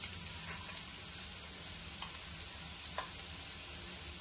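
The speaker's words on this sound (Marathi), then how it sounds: "कांदा चांगला परतलाय बघा, साधारण ब्राऊन झालाय।" Onion frying in a pan until browned makes a soft, continuous sizzle, quiet and close, with a few faint stirring ticks.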